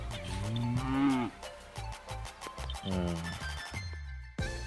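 Cows low repeatedly, long drawn-out moos overlapping one another at close range, with a short pause near the end before another call begins.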